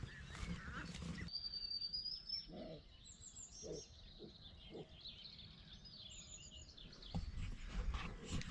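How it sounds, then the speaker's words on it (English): A deer calling on spring farmland, repeated hoarse, throaty barks at a moderate distance, mixed with chirping birdsong and some rumbling background noise at the start and end. "that deer's making a right din"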